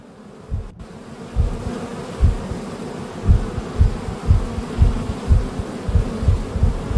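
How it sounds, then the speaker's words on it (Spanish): Flies buzzing around corpses in a video game, a loud close droning hum that pulses in an uneven rhythm as insects circle nearby. "Y las moscas de todos los cadáveres"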